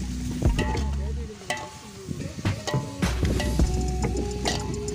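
Onion, cashew and green chili paste dropped into a hot pan outdoors, a close, loud sizzle with spoon stirring and scraping bursts under a low rumbling background.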